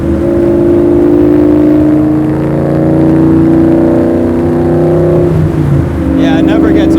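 A Shelby Cobra R powered by a Gen 3 Coyote V8 drones loudly and steadily up close, its deep engine note rising and holding before shifting near the end, with a voice speaking over it.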